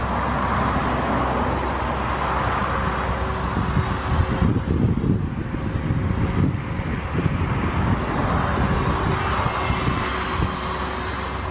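A 450 Pro RC helicopter with belt-driven tail flies outdoors, giving a steady, continuous high motor whine and rotor drone at moderate distance throughout, with slight swells as it passes.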